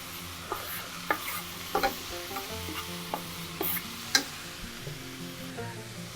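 Onion for a red wine and walnut pasta sauce fries in a pan, giving a steady sizzle. Scattered spoon clicks and scrapes of stirring sit on top of it, close and with no speech.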